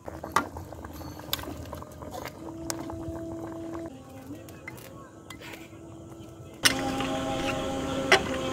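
A fish and pointed gourd curry boils in a pot with soft, steady bubbling. The bubbling grows louder near the end, and talk can be heard over parts of it.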